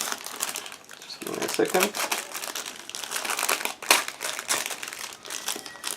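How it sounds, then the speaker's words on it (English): A plastic bag holding model kit parts for a 1/35 scale Miniart T-54B Early tank crinkles and rustles close by in continuous irregular bursts, with someone speaking briefly over the handling. "now I need to open this plastic bag so that we can check these parts closer"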